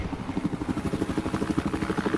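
A helicopter in the video game Battlefield 4 beats out a steady, rapid rotor thump that stays loud and even for a couple of seconds, with no voices over it.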